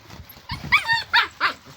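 A puppy gives a few short, high yips and barks in quick succession, close by, during a parcel unboxing indoors.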